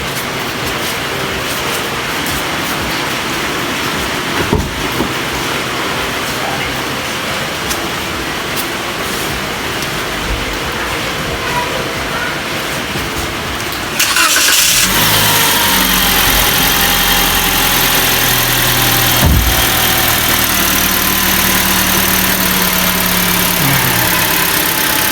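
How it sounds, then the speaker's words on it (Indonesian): A car engine fitted with a battery volt stabilizer starts partway through and settles into a steady, loud idle. Before that comes a quieter stretch of hum. No one speaks. "Yuk kita nyalakan mobilnya sobat."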